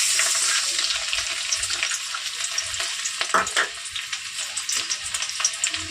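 Garlic frying in hot oil for chili chicken, a loud, continuous crackling sizzle close up, broken by a few stirring scrapes.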